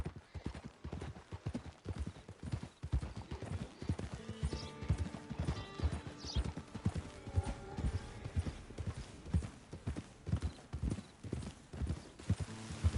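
Horse hooves clip-clop steadily and close in Red Dead Redemption 2 Online, a continuous walking rhythm with an occasional whinny, set over game music and ambient sound.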